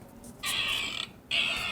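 Two drawn-out high squeaks from a children's sound book depicting a creaking playground swing by a pond, each long and close, separated by a short pause.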